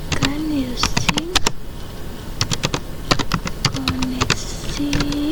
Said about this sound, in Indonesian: Di sini saya ketikkan using